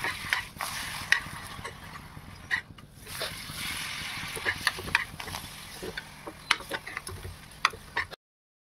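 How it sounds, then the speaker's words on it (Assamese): Papad fries in hot oil with a crackling sizzle, broken by clicks and soft splashes as it is handled in the pan. The sound is fairly close and stops abruptly at the end. "এইফালে তেল গৰম হৈ গ'ল, মই এতিয়া দি দিওঁ পাপৰ"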